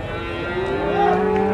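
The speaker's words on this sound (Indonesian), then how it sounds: "Ada sapi Hindia sahabatku masuk di Glenmore" Indian cattle at the Glenmore livestock market give a single drawn-out moo, loud and close, holding a steady pitch that rises slightly near the end over faint background market noise.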